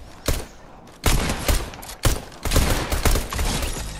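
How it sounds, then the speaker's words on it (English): Shots in the Fortnite video game come as loud, sharp bursts: a single crack, then clustered volleys at intervals, each with a brief echoing tail. No one speaks over the shooting. "I just got shot."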